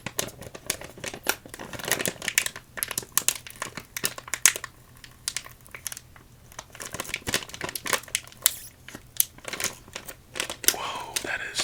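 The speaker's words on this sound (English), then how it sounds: "A nice, thick, crinkle bag, too. Love thicker packaging." A thick plastic bag of sherbet gummies crinkles up close in dense, irregular bursts of crackling and rustling, with brief quieter pauses between handlings.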